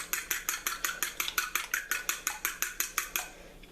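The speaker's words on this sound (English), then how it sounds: "I'm going to scramble them really fast." Two eggs beaten quickly with a utensil in a bowl for an egg wash, a steady fast series of about fifteen sharp clinking strokes, close and alone.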